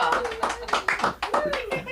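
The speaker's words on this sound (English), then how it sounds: "I want a round of applause" At an LA School of Comedy show, a comedy-club audience claps in a loose, pulsing rhythm of roughly seven bursts, close and fairly loud, with a voice speaking over the hands.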